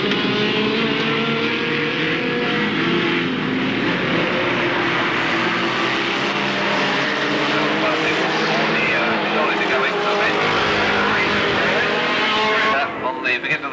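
Race cars at an Alwalton meeting roar continuously at close range with dense, loud engine noise, and a commentator talks over the racing throughout.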